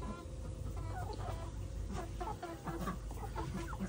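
A Rhode Island Red chicken clucks in a farmyard, soft repeated clucks at moderate distance over a steady low background hum.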